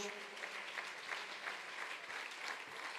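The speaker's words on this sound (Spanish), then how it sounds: "Denle un aplauso al Señor, hermano." Church congregation applause during a Spanish-language sermon, a quiet, steady wash of many hands clapping heard from a distance, with faint voices underneath.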